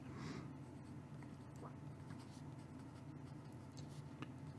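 A PenBBS 323 Black Tortoise fountain pen with a wet, smooth nib scratches softly across paper, a faint continuous scritch of close-up strokes with small pauses and no talking.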